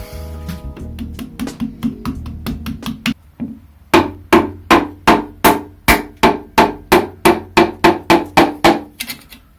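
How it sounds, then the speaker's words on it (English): Repeated loud metallic hammer taps driving a piston into a Mazda MX-5 engine bore in a steady rhythm, lighter strikes at first, then a series of about fifteen heavier, ringing blows. "We'll get our hammer."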